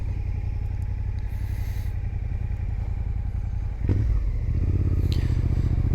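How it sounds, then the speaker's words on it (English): Motorcycle exhaust with a dB killer fitted, a steady low engine drone on a first ride of the year, rising into a stronger rumble partway through with a brief clatter. "This exhaust sounds pretty good. I've still got the DB killer in."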